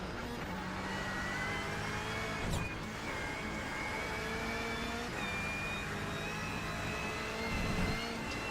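A race car engine in the iRacing sim drones steadily at an even pitch with faint tonal whine, a continuous mechanical hum heard alone.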